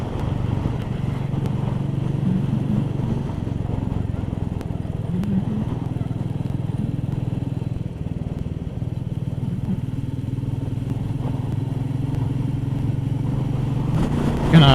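A Royal Enfield Meteor 350 motorcycle rides along a country road in winter sunshine, its engine a steady, low, continuous drone heard from the rider's position with wind noise, holding an even pace throughout.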